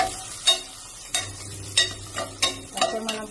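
Ginger and garlic fry in hot oil for a chicken curry, with a steady low sizzle broken by five or six sharp scraping stirs of a spoon against the pan, close and fairly loud.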